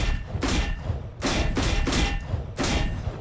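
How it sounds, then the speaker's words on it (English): In the tactical shooter Valorant, the Shorty sidearm shotgun fires in heavy, booming bursts, several blasts in quick succession with wide noisy tails, loud and close. "It's a little shotgun."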